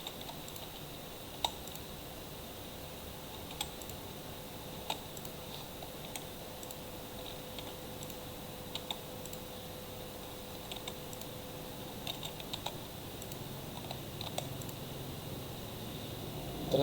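Scattered keystrokes on a computer keyboard while entering data into a program, faint and irregular clicks spaced over a steady room hum with no talking.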